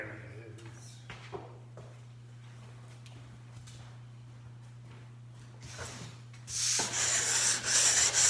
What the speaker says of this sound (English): You take a sanding block, sandpaper glued onto this block here.